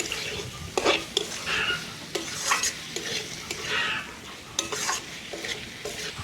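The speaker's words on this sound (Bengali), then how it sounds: "এবার ভেজে রাখা আলু আর পটল দিয়ে দেবো। ভালো করে মশলার সাথে আলু পটল মিশিয়ে নেবো।" Fried potatoes and pointed gourd stirred with spices in a pan for an egg and pointed-gourd curry: repeated scraping spatula strokes over a steady, moderate sizzle, with no voices.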